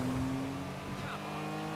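A car in GTA Online drives along with a steady engine drone and road noise, moderately loud and continuous, with a faint hint of tire noise partway through.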